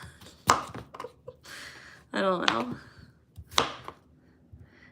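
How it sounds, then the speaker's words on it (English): A knife chops potatoes into cubes on a cutting board for a kielbasa crockpot meal, a few sharp separate thunks scattered between casual talk, with a brief voice in between. "So now I'm just chopping up my potatoes."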